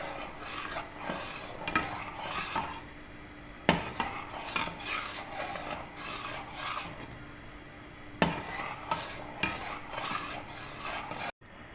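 A spoon stirs milk in a cooking pot while a bread malai dessert is made, giving steady repeated scraping and swishing strokes against the metal, with a few sharper knocks standing out.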